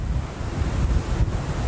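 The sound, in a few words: strong wind blowing on rocky coast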